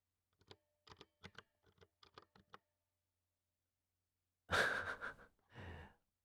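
A short burst of quick keyboard typing, about a dozen crisp keystrokes close by, followed by a couple of soft breaths or sighs.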